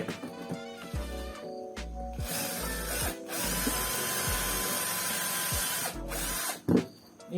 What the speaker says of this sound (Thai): ผมขอเจาะแป๊บนึงนะ